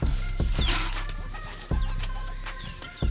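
Chickens cluck and chatter nearby amid scattered knocks and pecking taps, with a steady low hum underneath.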